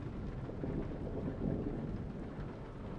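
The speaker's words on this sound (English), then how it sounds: "It is tipping it down with rain." Heavy rain pours steadily in a storm in Euro Truck Simulator 2, a dense continuous hiss with a low rolling rumble of thunder swelling in the middle, with no talk.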